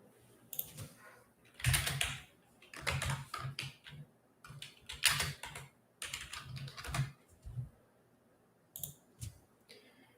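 Computer keyboard keys are tapped in quick, uneven bursts of clicks with short pauses between them, close and fairly faint, with no talking.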